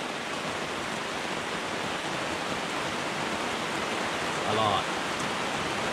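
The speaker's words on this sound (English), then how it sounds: "we're waking up this morning to head off to the Skywalk, and it is pissing down rain." Heavy rain pours down steadily in a morning downpour, a dense, constant hiss filling the whole stretch at an even loudness, with a brief louder burst near the end and a few spoken words.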